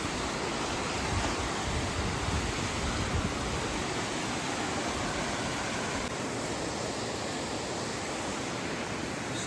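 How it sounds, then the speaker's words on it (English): A powerful waterfall roars in a steady, dense wash that stays loud and unbroken throughout, with no voices over it. "Fucking waterfall."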